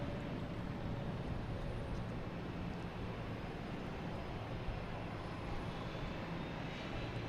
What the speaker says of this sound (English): You get American Airlines taking off